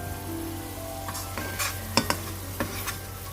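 Curry paste sizzles steadily in hot oil in a pan as it splits, with a few sharp scrapes and clinks of a spatula stirring, quiet and close.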